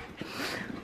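An excited dog named in the household whimpers and pants in short bursts close by, fairly loud against a noisy room.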